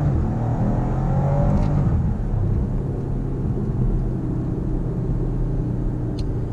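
A Maserati accelerates on an afternoon drive, heard from inside as a steady, loud engine rumble with rising tone early on, then a sustained low drone of road and exhaust noise.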